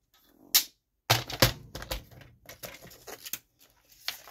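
Scissors or a cutter snip through craft material on a cluttered desk, giving sharp, close, irregular clicks and crunching cuts in short bursts separated by brief pauses.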